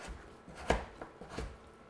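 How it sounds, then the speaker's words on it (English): Knife chopping peeled sweet potatoes on a board for a chicken curry, a few separate sharp knocks spaced unevenly, one louder thump standing out, close and fairly quiet with no talking. "We'll peel the 2 potatoes, and then we'll chop them and chop those up"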